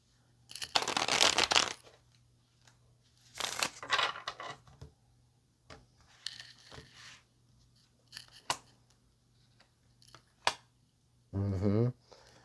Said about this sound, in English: let's get one more shuffle and then we'll go ahead and pull the tarot out